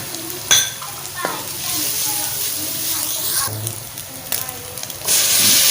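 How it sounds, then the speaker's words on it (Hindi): Ginger, garlic and onion frying in a pan, a steady oily sizzle with sharp clinks and scrapes of a spoon stirring, loud and close, with a voice briefly audible. "हल्का से इसको फ्राई करके ताकि इसका कच्चापन अदरक लहसुन का ख़त्म हो जाए और साथ में प्याज भी ओके हो जाए"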